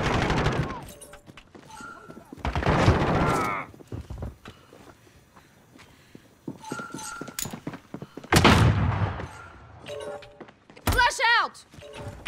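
Gunfire in the video game Call of Duty Modern Warfare on the Vacant map, with several sharp bursts and single shots spread through the clip and gaps between them, under occasional player talk.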